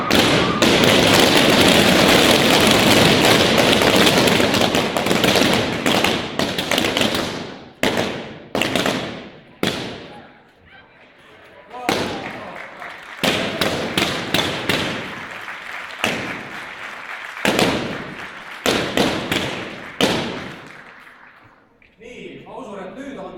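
Balloons being popped by a conference audience, a dense crackling barrage of loud bangs at first that thins into scattered single pops and short clusters, with quieter gaps toward the end.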